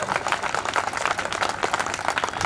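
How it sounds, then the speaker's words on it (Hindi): A crowd applauds with dense, steady clapping that carries on throughout, loud and continuous. "मैं चाहता हूं कि आप इतनी तालियों की गड़गड़ाहट से इनका सम्मान करें"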